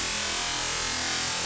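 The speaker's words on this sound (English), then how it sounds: "Now, one really cool thing you can do in PhasePlant is you can phase modulate samples with each other." A dense, buzzing synthesized drone made from vocal samples phase-modulated with each other in Phase Plant, with warbling, metallic overtones, steady and fairly loud throughout, with no voices.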